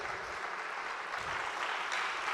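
A church congregation claps together in sustained, dense applause during a sermon, heard as an even, continuous patter with no talk.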